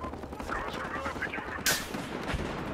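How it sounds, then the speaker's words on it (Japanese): Gunfire in Battlefield Hardline crackles steadily at a moderate distance, with one sharp, louder rifle crack standing out partway through, like a sniper shot. "スナイパーになんか撃たれてる"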